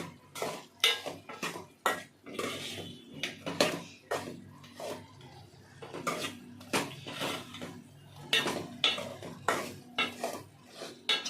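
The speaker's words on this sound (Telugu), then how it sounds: "ధనియాల పొడి 1 స్పూన్ గరం మసాలా పొడి వేసి మిక్స్ చేసుకుందాం." Metal spoon scraping and clanking around a pot of chicken curry as garam masala and coriander powder are mixed in, with repeated irregular stirring scrapes and knocks, close and fairly loud, no talk.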